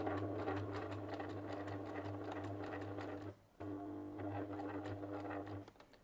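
A sewing machine stitches faux leather in a fast steady hum of needle strokes, close and clear, pausing briefly partway before running on.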